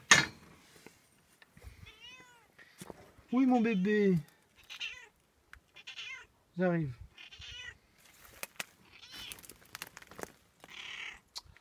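A cat meows several times near a caravan and house left empty for two years, with short, rising and falling cries spaced between brief words from a person and scattered rustling.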